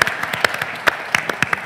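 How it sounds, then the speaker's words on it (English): A small audience at a startup pitch competition gives scattered applause, a handful of distinct, fairly close hand claps in an uneven rhythm rather than a full ovation. "But round of applause then for Shwowp."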